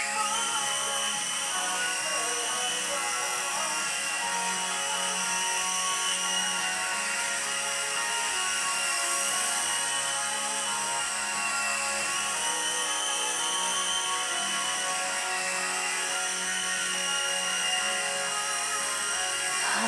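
A small toy-style helicopter flies and lands indoors, giving a continuous, steady high-pitched motor whine and rotor buzz that stays close and even throughout.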